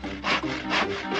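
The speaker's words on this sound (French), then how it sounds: "Quelqu'un scie le fond du carrosse." A saw rasps through the wooden floor of a carriage in two quick back-and-forth strokes, close and alone.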